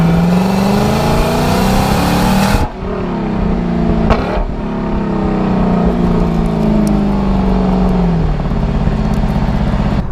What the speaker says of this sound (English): the burble or the sound of the naturally aspirated V8 can grab people's attention